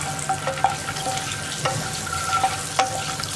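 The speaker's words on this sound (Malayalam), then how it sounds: "ആ മഞ്ഞൾപ്പൊടിയിൽ ഒന്ന് മുട്ടയൊന്ന് വഴറ്റിയെടുക്കുക." Egg sautéed with turmeric powder in a pan for egg mappas, a steady frying sizzle with sharp scraping stirs of a spoon against the pan recurring every second or so, close and moderately loud.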